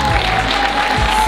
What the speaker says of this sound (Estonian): Ja aplaus võistajatele!